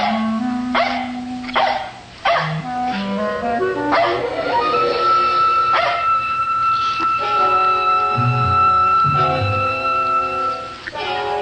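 Dogs at a dog show bark, yip and whimper in a series of sharp bursts that grow denser and more overlapping toward the end, loud and close.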